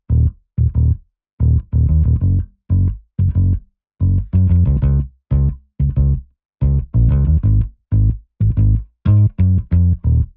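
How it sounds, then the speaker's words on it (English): Synth bass guitar tone from the Retro 60s preset in Trillion, playing short, punchy plucked notes in a syncopated rhythm with gaps between phrases, clear and alone. "So the bass guitar is the Retro 60s preset in Trillion"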